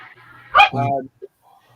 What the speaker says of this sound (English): he's got a dog barking.